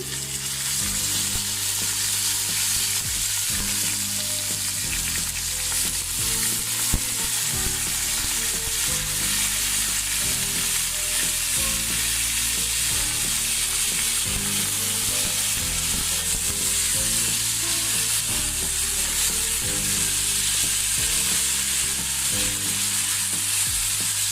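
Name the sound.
rice added to fried onions, frying and stirring in a pot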